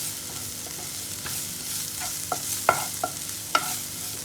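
Potatoes in pepper sauce stirred in a hot pan, a soft continuous sizzle under a handful of distinct spatula knocks and scrapes, close up with no voices.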